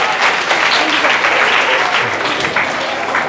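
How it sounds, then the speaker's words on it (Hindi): A group of children in a community class in Vishwas Nagar, Delhi, clapping together, a dense, steady patter of many hands that continues loud and unbroken throughout. "तालियां बजाई"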